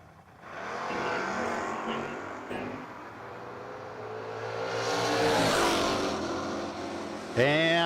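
Third-generation Chevrolet Camaro and an Oldsmobile drag racing side by side at a no-box shootout, engines roaring loud and steady for several seconds, swelling to a peak as the cars pass near, then a sharp new engine burst at the end, with an announcer talking over it.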